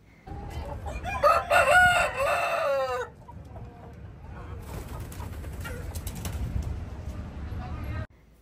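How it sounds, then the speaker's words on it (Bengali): Country chickens at a roadside dhaba in Tamil Nadu, with a rooster crowing loudly up close before a busy stretch of clucking and flock noise that cuts off abruptly. "দেখুন কত মুরগি।"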